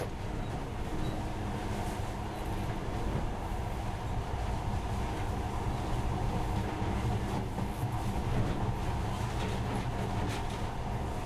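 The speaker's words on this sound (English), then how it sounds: "But now, this monorail seems magic, doesn't it?" Monorail train from the Metro Last Light video game running steadily with a continuous low rumble and rattling, a dense, even rolling noise that stays loud throughout.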